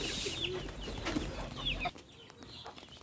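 Pigeons kept at home coo and murmur close by in short, soft bursts, then quieten to a faint rustle.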